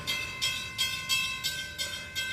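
A long freight train hauling many cars in a rail yard gives off a steady rumble, with rhythmic metallic pulses repeating about every third of a second and a faint high whine held throughout.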